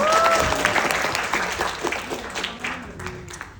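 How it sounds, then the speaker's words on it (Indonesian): Audience at an Indonesian stand-up comedy roast breaks into loud, close applause that fades over a few seconds, with a voice briefly audible at the start. "Boleh tepuk tangan buat aksi bersama teman-teman"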